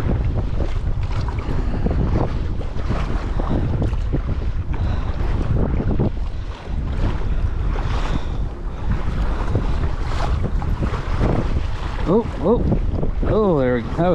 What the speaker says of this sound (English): Good size waves.